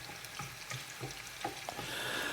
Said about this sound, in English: We're just softening the onions